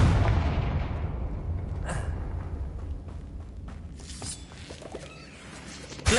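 A Confringo fire spell in Hogwarts Legacy bursts at the start with a loud rumbling explosion that fades over several seconds, followed by lighter impact and magic effects and a sharp hit at the very end.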